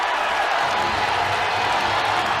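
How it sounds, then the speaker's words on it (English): Spectators cheering for Chance Lamer at a men's college wrestling dual between Ohio State and Nebraska, making a dense, continuous roar that stays steady and fairly loud through the whole short stretch. "Crowd making some noise for Chance Lamer."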